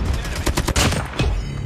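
Rapid bursts of automatic gunfire crackle loudly and close in a Call of Duty Mobile multiplayer match, several overlapping volleys in quick succession.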